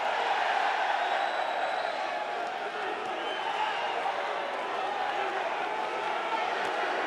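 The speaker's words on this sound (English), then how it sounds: "the crowd's gone crazy" Loud, dense arena crowd noise at an Olympic men's light boxing final in Rio, a sustained roar and cheer filling the whole stretch with no break.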